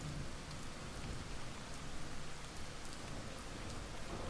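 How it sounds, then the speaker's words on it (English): Heavy rain pours down in a torrential visual novel game scene, a dense, even hiss of water that continues unbroken from start to finish. "It's pouring out here."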